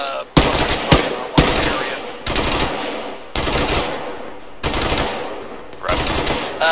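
Heavy automatic gunfire hammers at a bunker during a combat push into a town compound, loud sustained bursts separated by brief gaps, about six in all, with faint voices in the background.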